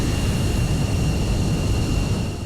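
A Yak-38 style Soviet jump jet in a video game, front hatch open and rear nozzle tilted down for takeoff, gives a steady, loud roaring engine wash with a thin whine on top, unbroken throughout.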